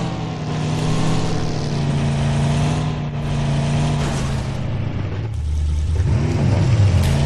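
A car engine in PUBG Mobile drones loudly and steadily as the vehicle drives, the pitch shifting a little toward the end, with no voices over it.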